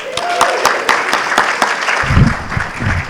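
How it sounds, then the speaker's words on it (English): A crowd at a Dahlonega-Lumpkin County Chamber of Commerce State of the City and County event claps in crisp, rhythmic unison, loud and close, and a voice begins speaking over the final stretch of clapping. "give a clap or a holler or a whistle if you love living and working in Dahlonega-Lumpkin County as much as we do"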